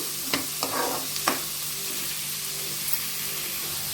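Chopped onions drop into melted butter in a pan for Mumbai-style pav bhaji, giving a few short sizzles and stirring scrapes early on, then a quiet steady frying hiss.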